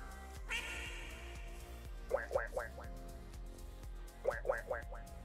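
A duck quacks in two quick bursts of about four calls each, rhythmic and fairly close, after a brief high tone near the start, with low steady background rumble and no talk.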